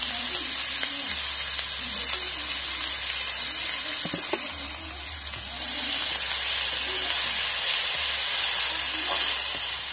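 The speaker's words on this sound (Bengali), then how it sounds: "পেঁয়াজটা আমার ভাজা হয়ে এসছে, বাদামি হয়ে গেছে।" Chopped onions frying in oil in a wok with bay leaves and whole spices, a steady broadband sizzle and hiss held throughout, with occasional stirring scrapes and a low rumble that drops briefly near the middle.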